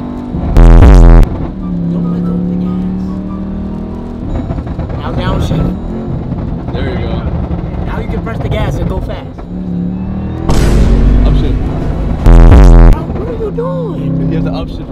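A burble-tuned Jeep Trackhawk's engine revs hard and accelerates through an upshift, with loud bursts near the start and again toward the end, while people talk throughout.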